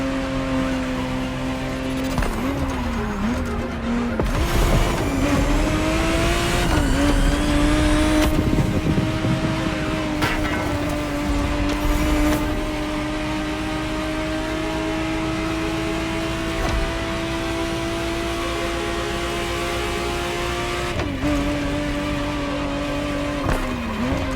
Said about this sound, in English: the exact model Motorfest has put into your hands is the 1991 re-engineered version of the Testarossa